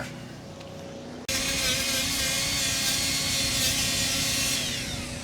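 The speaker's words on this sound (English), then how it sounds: "This is one of them little paint removal, rust removal pads." A paint and rust removal pad on a power tool spins up against a part from a 1966 Mustang after a quiet start, then keeps up a loud, steady abrasive whir that eases slightly toward the end.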